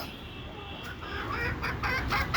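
Desi (indigenous) chickens clucking nearby, with short repeated clucks growing a little louder and busier over a soft background hum.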